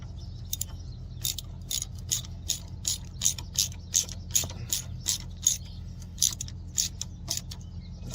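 Wrench ratcheting bolts on a Suzuki lift kit, a quick run of sharp metallic ratchet clicks in uneven bursts, close and clear with no talk.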